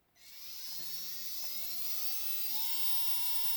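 Small electric winch motor on an RC crawler winding line onto its spool, a thin high whine that starts abruptly and steadily climbs in pitch as it runs on, alone and close.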